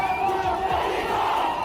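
A large crowd at a political rally in Bihar chanting the slogan "vote chor gaddi chhod" in unison, a loud, continuous roar of many voices.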